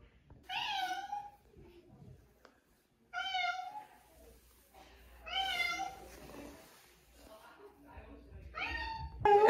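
Cats meow repeatedly during a checkup at the vet, several drawn-out, plaintive cries spaced a second or two apart, close and clear, with quiet murmured talk between them.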